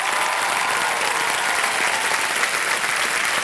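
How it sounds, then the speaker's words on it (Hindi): Studio audience on a quiz show set clapping in steady, dense applause, loud and even from start to finish. "तालियां बजती रहो मुस्कान के लिए।"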